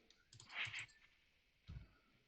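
Faint computer keyboard typing during a live coding session, with a short cluster of quick clicks followed by a second brief burst after a pause, quiet and alone.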